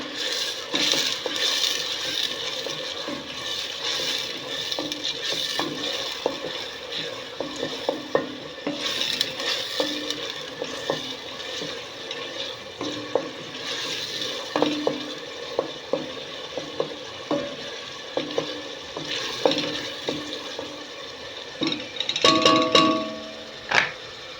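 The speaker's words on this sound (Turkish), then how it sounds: "Burada da soğanlarım kavruluyor." Chopped onions sauté in a pan for a fava bean dish, a soft steady sizzle broken by repeated scraping stirs of the spoon against the pan, close up and growing busier toward the end.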